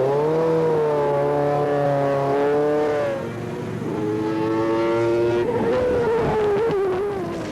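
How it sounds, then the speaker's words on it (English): A racing car's engine drones close by on a track, its pitch rising and falling as it brakes and accelerates, with a gear change midway and a louder revving swell near the end. "This racing driver is attempting to shave 1/100th of a second off each lap by braking at the last possible moment and accelerating to maximum speed"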